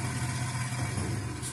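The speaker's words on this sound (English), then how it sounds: "Then your engine sputters." A car engine stranded in hot desert runs with a steady, rough low drone throughout, continuous and fairly loud with no talking.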